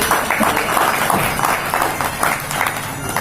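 A seated audience at a Shrimad Bhagavat Katha religious gathering claps loudly and continuously, a dense, even burst of applause filling the short stretch.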